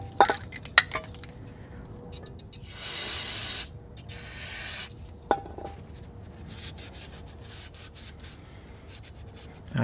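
Cleaner sprayed onto an old greasy front wheel hub of a GM 4WD SUV in a garage: one long hissing burst, a short pause, then a second longer spray, framed by scattered metallic clicks and handling noises.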